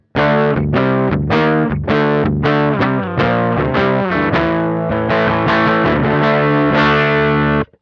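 A thick, bass-heavy electric guitar tone with some distortion, through a Beetronics Wannabee fuzz pedal on circuit 0, plays a series of loud, rhythmic chord stabs, ringing out before an abrupt stop.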